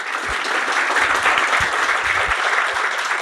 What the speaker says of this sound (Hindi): तो एक बार खुद के लिए जोरदार तालियां।